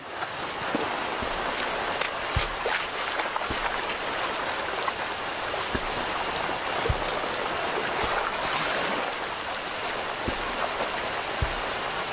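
A wild river rushes steadily in the open, a dense, even roar of flowing water with occasional faint knocks, and no voices.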